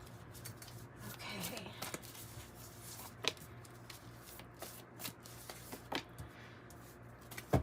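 Tarot cards being shuffled close by, with soft riffling, slaps and scattered sharp taps over a low steady hum, while a voice talks at times.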